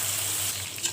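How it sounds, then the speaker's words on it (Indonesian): Spice paste for sayur lodeh sautéing in a pan, a close, continuous bright sizzle with no talking. "kita gongso, saute dulu hingga benar-benar matang."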